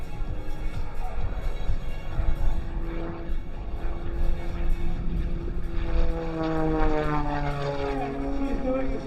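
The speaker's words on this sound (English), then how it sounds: "Kick the rudder left, kick the rudder right in knife edge flight." A propeller aerobatic plane flies knife edge at the Fort Wayne Air Show 2025, its engine droning loudly with rising and falling pitch as it passes close overhead, over a wash of crowd noise.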